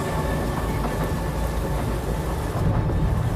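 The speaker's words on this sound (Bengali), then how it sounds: "ট্রেনের শব্দের সাথে পাল্লা দিয়ে বৃষ্টির শব্দ" Steady heavy rain pours throughout, mixed with the low continuous rumble of a moving train, dense and close, with no voices.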